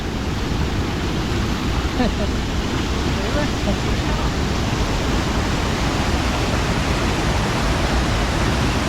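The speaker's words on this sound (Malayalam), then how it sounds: "അങ്ങനെ നമ്മൾ വെള്ളച്ചാട്ടത്തിൽ എത്തിയിരിക്കുകയാണ്." A monsoon waterfall pours over laterite rock near Aruvikkal Temple, producing a continuous, loud, broadband rushing roar that stays steady throughout.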